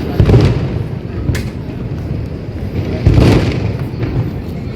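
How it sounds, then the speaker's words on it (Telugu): Firecrackers set off during Ramadan in Dubai, with several loud booming bursts spaced a few seconds apart over outdoor background noise. "సో మేబీ రమదాన్ మంత్ కాబట్టి పటాకులు పెడుతున్నారు"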